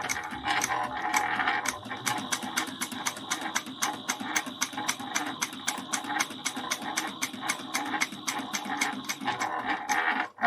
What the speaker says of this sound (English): So we're going to top stitch this at 1/8 of an inch.